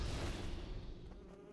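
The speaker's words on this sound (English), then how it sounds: "What is that noise? Sounds like a bee." Flying insect enemy in Demon's Souls, a low droning buzz that fades slightly over a second and a half amid game ambience.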